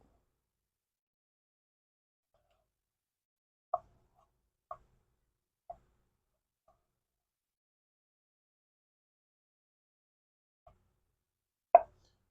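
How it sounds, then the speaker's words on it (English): Cubes of smoked chicken drop into a tin one at a time, giving a few faint, isolated soft plops spaced seconds apart in an otherwise quiet setting. "Cut it into some probably 1-inch cubes and just drop it in our tin here."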